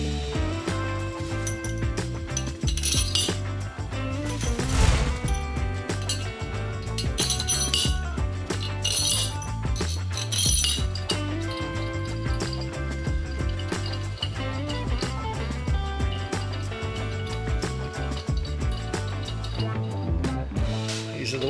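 Specialty tool parts, dowel-pin cutout pieces, being bolted together in a workshop, giving a steady run of metallic clinks, ratcheting clicks and clattering hardware, close and fairly busy, with no talking.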